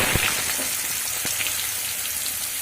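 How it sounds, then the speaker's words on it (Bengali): Potatoes frying in hot oil, with a dense, steady sizzle and crackle throughout, plus a few sharp pops close by. "এবার আমি ওই তেলের মধ্যে আলুগুলো ভেজে নেব"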